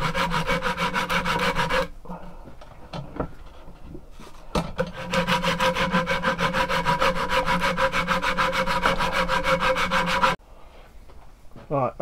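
A wooden walking stick being shaped by hand, with sustained rhythmic rasping and sanding strokes on the wood, loud and close, broken by a few short pauses.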